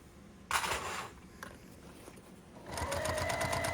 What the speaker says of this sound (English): I back stitch, sew to the corner with a 1/4 inch seam allowance, and then just rotate onto the next side